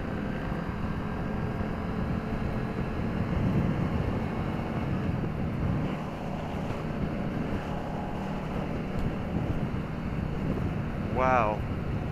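Wind noise buffets the microphone while riding a 2015 Indian Scout motorcycle, a constant broadband rush over the low engine drone, with voices heard in places.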